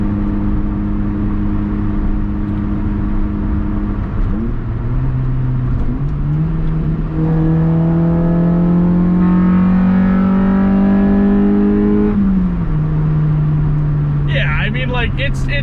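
A Honda Del Sol accelerates hard, its engine note climbing through the revs in steady rising sweeps with a shift partway through, loud and close as if heard from inside, with a voice briefly over it.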